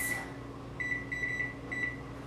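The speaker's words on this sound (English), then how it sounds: "I'm gonna set a timer for 8 minutes" A kitchen timer beeps in short high bursts of repeated electronic bleeps over a low steady hum in a home kitchen while parsnips cook, clear and fairly close with no speech.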